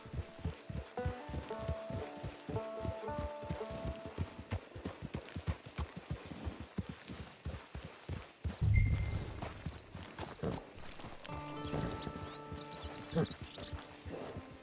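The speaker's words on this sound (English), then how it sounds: "It's your horse." Horse hooves clip-clop in a steady walking rhythm in Red Dead Redemption 2 as riders approach a camp, close and clear, with a brief heavier thud midway and voices talking over parts of it.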